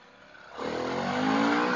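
Harley-Davidson Pan America motorcycle pulling away, its engine note swelling from a low idle into a strong, rising roar that holds loud to the end.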